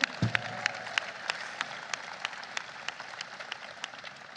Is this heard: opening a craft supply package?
no